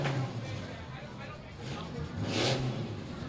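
Trucks rev their engines at the Broome County Fair, a distant, rough roar that swells and falls and peaks strongly toward the end, with a commentator talking over it.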